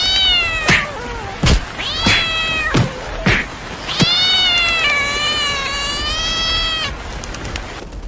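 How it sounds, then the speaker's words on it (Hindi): A cat chasing a bird meows loudly and repeatedly in the rain, long drawn-out yowls with short sharp cries in between, close by and with no talking. "अरे ये खतरनाक बिल्ली इतनी जोर जोर से आवाजें क्यों निकाल रही है?"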